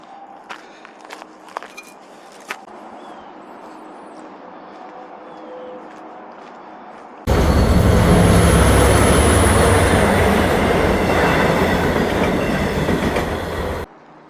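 Quiet outdoor ambience with a few faint taps and footsteps beside a railroad track gives way to a train passing very close, a loud, sustained rumble with rhythmic wheel clatter and a high squeal that cuts off abruptly.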